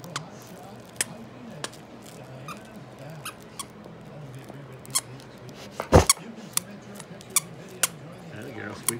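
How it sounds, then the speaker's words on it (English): A dog chews a squeaky toy, producing a run of scattered short squeaks and clicks with one louder burst near the middle, over a low background with a faint voice now and then. "That girl, squeak your toy."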